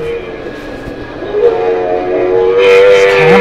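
An indoor amusement park ride train at a mall fantasy fair rolls past with a rising rumble, tonal whistle-like hum and clatter that grows louder toward the end, amid crowd noise.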